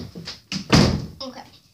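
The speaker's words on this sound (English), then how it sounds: "Close the door." A room door swung shut with one solid thunk partway through, close by, with brief talk around it.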